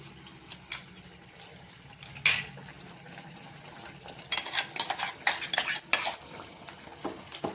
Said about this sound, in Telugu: పచ్చివాసన పోయే వరకు వేయించుకుందాం.